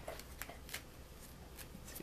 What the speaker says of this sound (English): Let me get some shuffling going here,